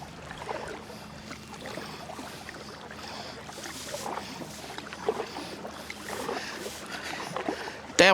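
Kayaks paddling on the Blackwater River, with steady water splashing and paddle strokes under wind noise outdoors, continuous throughout with a sharp knock near the end.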